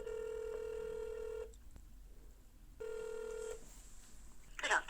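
A telephone call to estate agents rings out on the line, two long steady ring tones separated by a short pause, clear and fairly close, with a brief rustle at the end.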